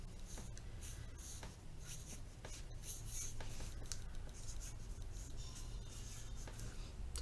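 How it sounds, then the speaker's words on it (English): Quiet, close scratching and squeaking strokes of a marker moving across paper, in short irregular bursts with brief pauses, over a low background hum. "get your black marker and just write your name."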